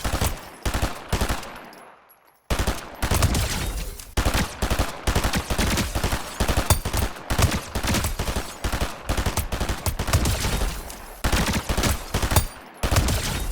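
Automatic gun with a laser scope firing in a video game, long loud rapid bursts of shots with two short pauses, no talking.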